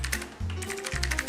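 Fast keyboard typing during a group typing race, with clustered key clicks in rapid bursts up close, alongside low background tones and no voices.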